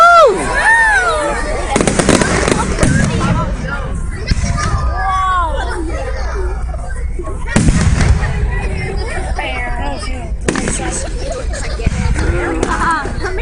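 Fireworks at a show burst in loud repeated booms and crackles, with bigger blasts near 2 and 8 seconds, while a crowd cheers and chatters throughout.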